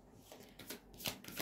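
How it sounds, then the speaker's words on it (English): A deck of tarot cards is shuffled by hand up close, giving a quick series of soft riffling flutters in short bursts, heard alone. "Let's see what the cards have to say"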